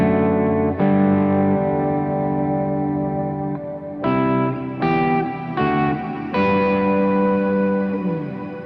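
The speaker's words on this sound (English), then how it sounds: "Got a 50-50 mix between reverb and dry sound." Electric guitar chords through a Revelation Reverb 2.0 pedal set to an even wet-dry mix ring out with a wash of reverb blended into the direct tone, several strummed chords with sustained, spacious tails.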